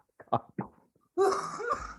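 A person who is sick coughs a few times in quick, short bursts, then gives a longer, harsher throat-clearing hack, close and fairly loud.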